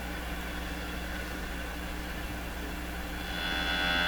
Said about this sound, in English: So that's the sound of the radio there.